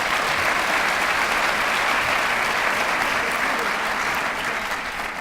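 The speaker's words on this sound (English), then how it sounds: "Would you give them a round of applause?" Steady, dense applause from a sizable crowd at a scholarship awards event, sustained at an even level throughout and easing only slightly toward the end.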